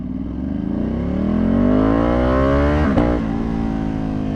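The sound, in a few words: tuned Ducati Panigale V2 motorcycle engine revving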